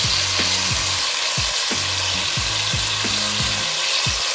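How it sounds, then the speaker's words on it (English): Loud, steady sizzling of minced meat and garlic frying in a pan, with repeated scraping and stirring strokes against the pan's surface. "fry the meat and the garlic"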